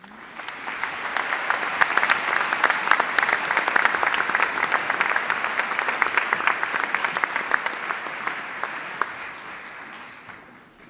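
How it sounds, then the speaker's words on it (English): At a university spring commencement for business and nursing schools, a large audience gives sustained, dense applause for the graduates, swelling steadily and then fading near the end. "please join me in a round of applause in recognition of the special level of accomplishment"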